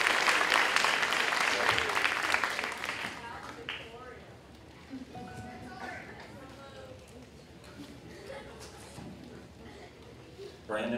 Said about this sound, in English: Big valedictorian applause